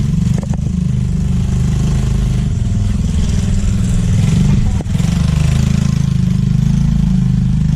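A motorcycle engine idles loudly and close, a steady low chugging rumble with a brief dip midway, running throughout without speech.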